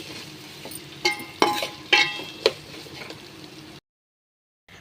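A spoon scrapes and clacks in a pan of spiny gourd curry with chili powder, several distinct stirring knocks over a light sizzle, then sudden silence near the end.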